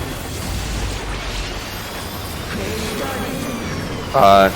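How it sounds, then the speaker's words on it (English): Explosions from a boss fight in Final Fantasy XIV land as low booming bursts over game effects, with a sharp, loud impact right at the end. "Then we have the 4 explosions again."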